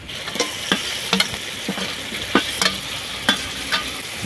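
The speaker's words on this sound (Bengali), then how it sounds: "এবারে কাঁকড়া দিয়ে দিচ্ছি।" Crab frying in a pan with ginger paste and spices, a continuous close sizzle punctuated by sharp, irregular spatula scrapes and knocks as it is stirred.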